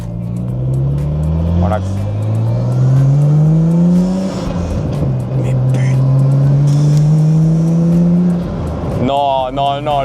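Intake roar of a Nissan Skyline R33 engine revving in long rising and falling sweeps, close and loud, with a voice speaking briefly over it.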